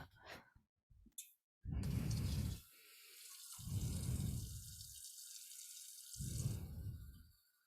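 Filtered tap water from a whole-house filter runs into a kitchen sink in three faint bursts a few seconds apart, with a soft hiss between them and no speech.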